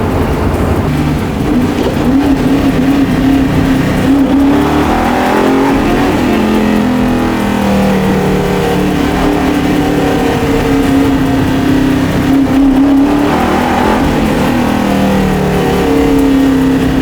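A 700-horsepower big-block 1964 Ford Galaxie race car engine roars loud and continuous from start to finish, its pitch rising and falling as it revs through gears.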